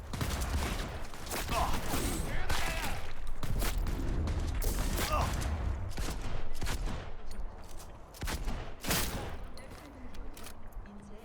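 Shotgun fire in Cyberpunk 2077, repeated sharp blasts spaced a second or two apart amid clattering mechanical reloads and busy game noise, close and loud.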